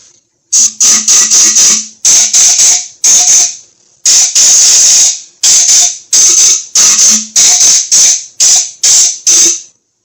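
Compressed air from a blow gun clears the oil filter housing passages of a 2015 Chrysler Town & Country in a series of loud, close, sharp hissing bursts, some short and some sustained, with brief pauses between them.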